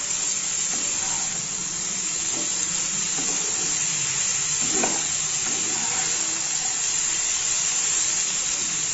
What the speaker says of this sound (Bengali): এবার এর মধ্যে আমি দিয়ে দিচ্ছি জল